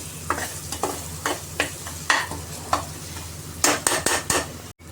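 Ginger-garlic paste fries in a pan for mutton curry with a bottle gourd. A close, steady sizzle is broken by regular scraping stir strokes, and a quicker burst of stirring comes near the end.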